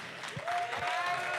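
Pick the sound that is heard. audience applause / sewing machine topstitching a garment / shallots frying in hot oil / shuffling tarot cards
audience applause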